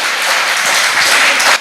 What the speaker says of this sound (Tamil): பெண்களை பெருமைப்படுத்துவது பிறந்த வீடு தான் சொல்றவங்க கைத்தட்டல் கொடுங்க பார்க்கலாம்.